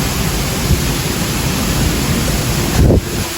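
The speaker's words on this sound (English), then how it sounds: "What a vibe of this waterfall." The Tibumana waterfall in Bali roars as a steady, loud broadband rush of falling water, close and constant throughout, with a brief low thump near the end and no voices.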